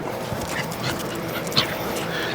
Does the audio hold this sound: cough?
no